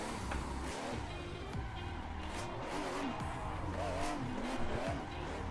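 A Supra races in a VR driving video game: the engine revs rise and fall in pitch, with repeated sharp tire squeals as it skids through corners, all fairly loud and continuous.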